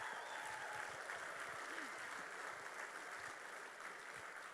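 An audience at a youth summit in Texas applauds and cheers in a steady wash of clapping that goes on throughout, fairly distant, and fades slightly near the end.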